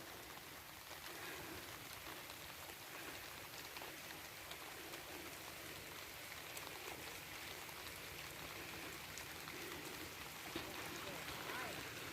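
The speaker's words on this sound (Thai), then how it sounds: "อันนี้ถ่ายเอาบรรยากาศสดๆร้อน ๆ เลย ฝนตกลินพี่น้อง" Light, steady rain falls continuously, making a soft, even hiss of drops that stays faint and unchanging throughout.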